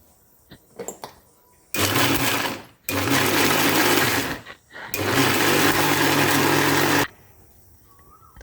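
A mixer grinder blends cashew and ginger with water into a paste for a vegetarian white rassa, running in three loud, steady whirring bursts separated by short pauses and quieter handling noises.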